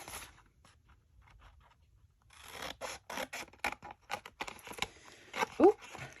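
Scissors snip through the packaging of a diamond painting kit, a run of short crisp cuts and rustles close to the mic, coming after a quieter stretch of faint handling.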